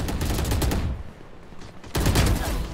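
Shots ring out from a shotgun in Valorant, with loud close blasts in a dense cluster, a brief quieter gap, then another rapid volley.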